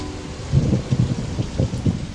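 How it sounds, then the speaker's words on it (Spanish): A night thunderstorm on the Venezuelan llanos churns with steady rain and low rumbling thunder, soft repeated rolls pulsing under a continuous wash of falling water, with no voices. "La noche irrumpió impetuosa con relámpagos y rayos"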